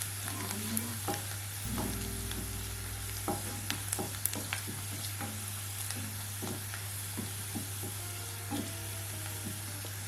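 Chili powder frying in hot oil with sautéed onion for a cluster beans stir-fry, a steady sizzle under repeated scraping and clinking stirs of a spoon against the pan, close and continuous.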